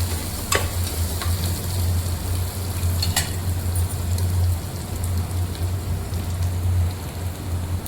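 Whole garlic cloves fry steadily over a low gas flame, giving a loud, continuous close sizzle with a low hum beneath, broken by a few sharp stirring clicks, with no talk.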